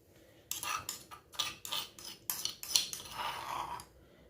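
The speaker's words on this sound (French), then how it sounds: "Je vais mélanger l'ail." Crushed garlic being stirred with spices in a bowl, heard as a series of bright scraping and clinking strokes of a utensil against the bowl, fairly close, each stroke short and uneven in rhythm.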